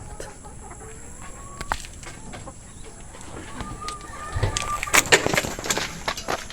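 A gamefowl rooster from a stock bird line clucks and calls in a farm yard, several short bursts growing louder toward the end, with other birds faintly in the background.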